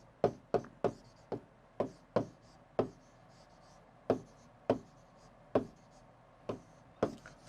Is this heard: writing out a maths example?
yes